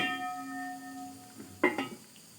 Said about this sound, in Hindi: और इसके ऊपर मैं कैप दे दूँगी।